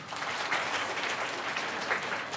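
Audience members at a talk on media careers clap their hands in a steady, moderate patter of applause that holds at an even level without speech.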